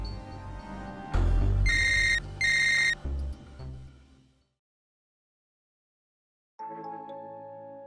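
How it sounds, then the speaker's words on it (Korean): An old-style telephone rings in the game Path to Nowhere, two bursts of bright bell trills over a low hum and rustle, then a pause of silence before a softer tonal chime sounds alone. "마침 전화가 왔군요. 받아보시죠."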